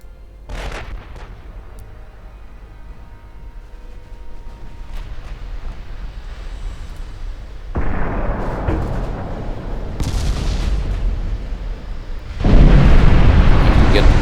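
Warship guns firing in Ultimate Admiral Dreadnoughts during a naval battle with French and Austrian ships. Deep booming blasts come in separate bursts, the heaviest roaring near the end over a low rumbling background.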